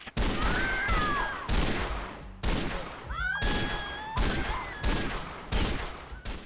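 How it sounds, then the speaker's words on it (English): Gunfire rattles in the video game NARC in repeated bursts, sharp and close, each volley cutting off abruptly, with whistling tones and a few ricochet-like squeals between the shots. "I shoot this fucker 34 times"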